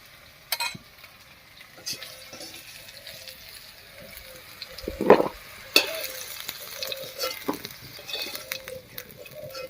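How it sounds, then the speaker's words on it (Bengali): Potatoes frying in mustard oil give a soft, intermittent sizzle with sporadic utensil clinks and scrapes, fairly quiet and close, one sharper knock near the middle. "আলুটা বেশ লাল লাল করে ভেজে নিয়েছি এবারে নামিয়ে নিচ্ছি"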